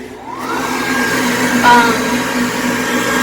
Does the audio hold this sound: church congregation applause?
no